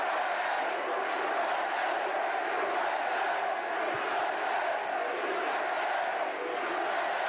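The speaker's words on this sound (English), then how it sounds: "Oh, there's a nice crowd." A large crowd at a Trump campaign rally in Greensboro, North Carolina cheers and roars in a steady, dense wash of noise that stays loud throughout.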